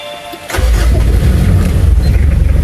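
A Mitsubishi Pajero engine cranks briefly and catches at once, settling into a loud, close, rumbling idle with a faint pulsing rhythm.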